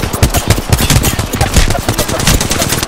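Rapid automatic gunfire in Apex Legends, close and loud, with a fast continuous rattle of shots and brief uneven gaps across the burst.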